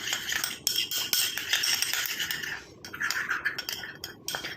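A spoon stirs fenugreek paste in a bowl, scraping and clinking quickly and continuously at close range, with short pauses between strokes.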